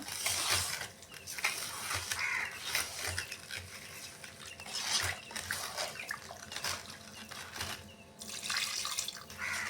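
Chicken curry is stirred in a pot right after water is poured in, giving a wet, sloshing swirl with irregular surges. The sound is fairly faint and close, with no talking.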